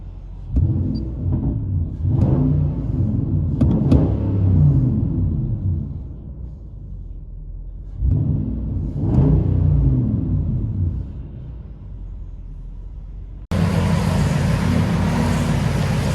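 Nissan Titan 5.6L V8 with a loud aftermarket exhaust, heard from inside the cab, booming low and close in two long throttle swells with deep rumbling drone between them, then a steady, harsher roar near the end.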